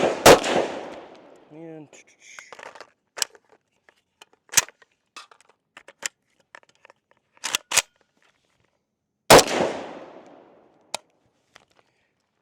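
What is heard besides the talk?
Zastava M92 rifle firing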